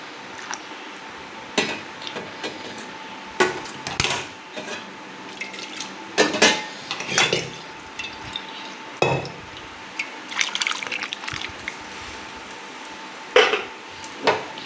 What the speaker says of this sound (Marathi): आणि हे पूर्णपणे हलवून घेऊया